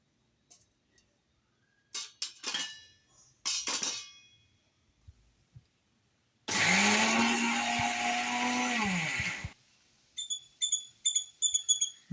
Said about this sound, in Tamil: மசாலா இப்போ அரைச்சி எடுத்தாச்சு.